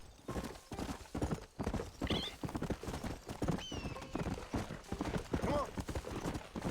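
A horse's hooves clip-clop in a quick, steady rhythm along a trail in the 2010 Western video game Red Dead Redemption, played on PS5, with a few brief whinnies rising above the hoofbeats.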